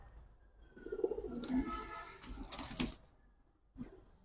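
Giribaz pigeons kept for sale coo nearby in a low, throaty, rolling call repeated over a few seconds, with faint voices in the background.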